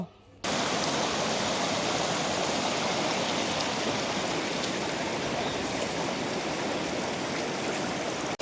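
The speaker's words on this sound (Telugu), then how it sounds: "బ్యాక్ సైడ్ అయితే వాటర్ ఫ్లో అయితే చాలా ఎక్కువైతే ఉంది" Loud, steady rush of a flooding stream during a cyclone, a continuous broadband roar close by with no pauses; faint voices may sit beneath it.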